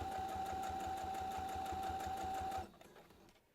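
A sewing machine runs fast and steadily through four layered materials of a reversible bucket hat, whirring with a constant tone before stopping abruptly, leaving faint handling sounds.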